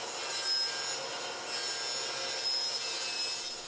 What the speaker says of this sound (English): use my track saw to trim a clean edge and rip that into strips